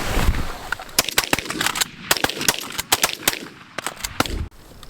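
Shotguns fire at geese during an early-season goose hunt in New York, with a rapid volley of sharp, loud blasts from several guns overlapping over about four seconds, some faint goose honks in between.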